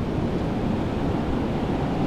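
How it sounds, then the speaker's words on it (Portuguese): Ocean surf breaking on a beach at São Francisco do Sul, Santa Catarina, a steady loud broadband wash of waves with some wind rumble, no voices. "Tem bastante onda."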